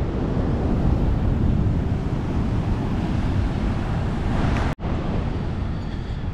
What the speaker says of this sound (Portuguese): o mar tá muito agitado mesmo